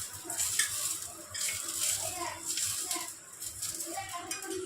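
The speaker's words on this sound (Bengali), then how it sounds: "শুকনো লঙ্কাটা ভাজা ভাজা হয়ে গেছে।" Dried red chillies fry in hot oil as tempering for a fish curry, giving a steady, fairly quiet crackling sizzle with soft stirring throughout.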